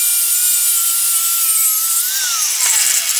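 Grinder working the threaded end of a screw with a nut fitted, a harsh continuous high-pitched grinding rasp up close, its whine dropping in pitch near the end as load changes.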